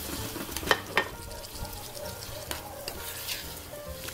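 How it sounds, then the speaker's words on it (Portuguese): Tomato goes into a pan of frying onion and garlic on a wood-burning stove made from a paint can, giving a steady soft sizzle with a few sharp stirring clinks near the start. "E agora eu vou colocar o tomate para fazer o molho."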